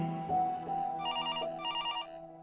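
A telephone rings as a call is placed: two clear bursts of bright, trilling ring over a steady electronic tone, close and fairly loud, with no voices.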